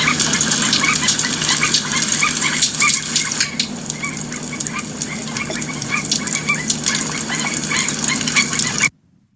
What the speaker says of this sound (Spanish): por lo general ustedes pueden hasta escuchar gaviotas. Escuchen acá.